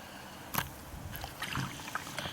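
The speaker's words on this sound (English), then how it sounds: "Now I'll just try to film when I'm paddling out here to Ingeborg again." Paddle strokes from a small boat heading out to a moored sailboat on a calm evening, close splashes and water swishes in an uneven rhythm with light wind in the background.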